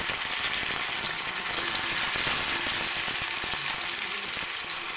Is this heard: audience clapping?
no